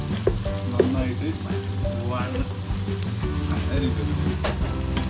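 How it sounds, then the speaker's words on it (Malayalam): Onions sautéing in a pan for a homestyle Kerala mutton curry, a steady sizzle with occasional stirring scrapes, close and fairly loud, with a tonal hum running underneath throughout. "അപ്പോൾ നമ്മൾ സവാള ഓൾമോസ്റ്റ് വഴറ്റിയെടുത്തിട്ടുണ്ട്"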